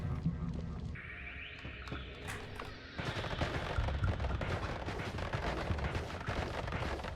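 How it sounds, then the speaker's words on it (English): Rapid game weapon fire from the video game Noita crackles in a dense, continuous stream of sharp pops and bursts, loud and steady after a few tonal electronic effects at the start. "Shooting enemies like this when having no flask is a bit scary"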